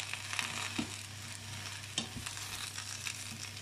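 Chinese cabbage sizzles steadily in a hot pan as it fries, with occasional clatters and scrapes from stirring; a continuous close frying hiss with no talk.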